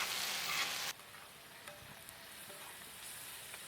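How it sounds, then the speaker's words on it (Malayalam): Spice paste sizzles and fries in a pan while a spoon stirs it, with a louder burst of frying at first that drops to a softer sizzle with occasional scrapes. "ഒരു സ്പൂണ് ഒന്ന് ഇളക്കി കൊടുക്കണം നന്നായിട്ട് നന്നായിട്ടൊന്ന് മിക്സ് ചെയ്ത്"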